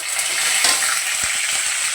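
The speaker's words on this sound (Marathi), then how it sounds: "फोडणीमध्ये घालणार आहेत आता थोडंसं एक चमच्याभर जिरं आणि कढीपत्ता" Cumin, curry leaves and whole spices, including a cinnamon piece, black cardamom and black peppercorns, fry in hot oil for a tempering, making a steady close sizzle with a few soft stirring taps.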